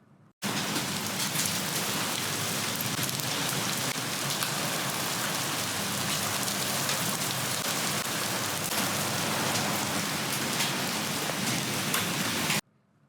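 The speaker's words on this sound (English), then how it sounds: "and then it started raining." Steady rain falls outside, a dense, even hiss of drops on surfaces that starts abruptly and continues unbroken, close and fairly loud, with no voices.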